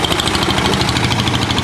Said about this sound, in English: Anyway, they have these very noisy engines at the back.